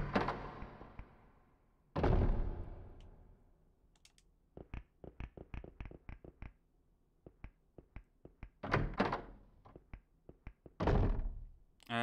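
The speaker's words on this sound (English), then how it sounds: "That's a loud door." A heavy door in the Clock Tower (1996) video game, booming loudly in several strong thuds, set among a quick series of sharper clicks and knocks in a quiet, dark space.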